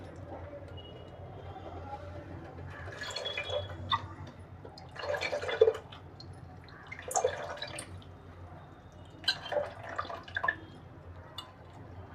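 Tamarind pulp water is poured into sautéed masala for a Ravas fish curry, making four separate bursts of splashing and dripping liquid over a quiet background hum.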